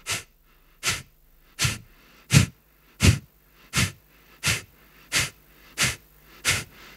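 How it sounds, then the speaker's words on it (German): Ten sharp, forceful exhalations through the nose in a steady rhythm, each a short hissing burst with quiet gaps between, close and alone. "Dort atmest du schnell aus und sanft ein."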